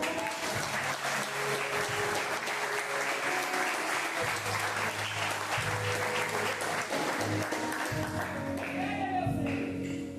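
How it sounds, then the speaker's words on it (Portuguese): Congregation applauding during a church sermon, a dense sustained wash of many hands clapping at steady loudness for about ten seconds, with faint voices mixed underneath. "Você pode aplaudir o Senhor?"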